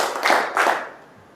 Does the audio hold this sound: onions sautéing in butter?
no